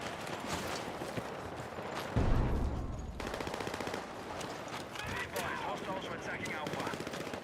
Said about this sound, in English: Sounds like all the shooting's gone on over here